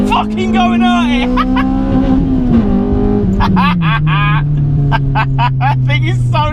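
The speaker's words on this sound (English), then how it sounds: "The Skunk 2 exhaust system on this one as well, it's got a great burble to it." Honda Civic EP3 Type R with a Skunk2 exhaust pulling hard along a winding road, its engine drone steady and loud throughout, pitch sagging slightly, beneath continuous close talk from the driver.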